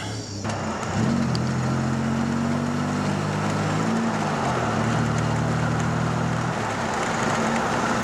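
Dodge Ram 1500 pickup with a newly installed clutch and manual transmission on a test drive, a steady low engine drone with gear-change shifts in pitch, loud and continuous inside the cab.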